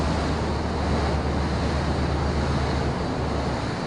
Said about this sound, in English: we see waves breaking on a reef